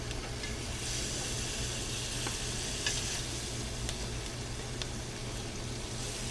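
Tomatillos charring on a hot skillet for salsa verde give a continuous dense sizzle and hiss, fairly quiet and even, with a few faint pops.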